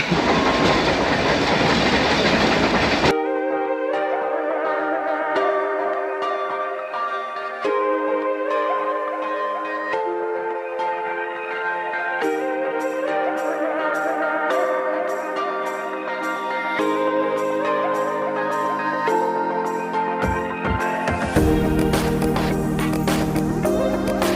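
The Ooty toy train, running from Mettupalayam to Ooty, rolls steadily along the rails with a rhythmic clickety-clack, overlaid by continuous tonal background music.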